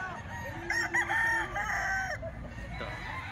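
A September-born Gilmore Hatch stag rooster crows once, a loud, close, drawn-out call with a ragged finish, heard alone.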